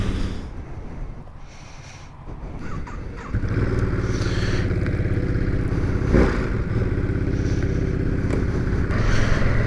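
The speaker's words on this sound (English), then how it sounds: "now I'm test riding the 2021 Monster 950" A 2021 Ducati Monster 950 motorcycle on a test ride, its engine droning low, then rising to a louder, steady pull after a few seconds with some wind and clatter, heard close throughout.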